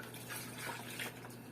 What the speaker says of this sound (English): you need to put the cool boiled water first on the tub